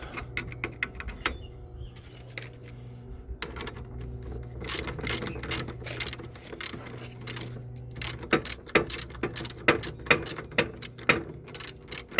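A ratchet wrench loosens a wheel nut on a Renault Twingo, giving loud, close bursts of rapid mechanical clicking that repeat in quick strokes over a low background hum.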